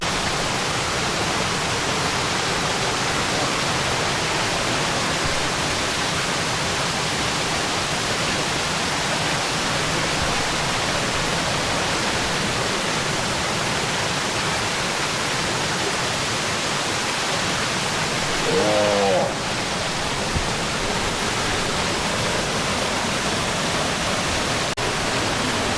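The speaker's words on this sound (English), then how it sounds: "And here we have this magical waterfall." La Coca Falls waterfall in El Yunque, Puerto Rico, a constant broadband roar of falling water, loud and unbroken, with a brief faint sound near the end.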